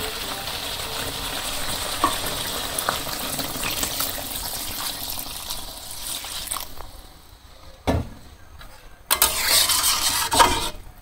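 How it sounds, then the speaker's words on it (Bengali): Water goes into a pot of cooked meat curry, first a soft sizzling hiss, then after a short lull a brief clatter and a bright rushing splash and bubbling near the end. "এখন জল দিয়ে দিই।"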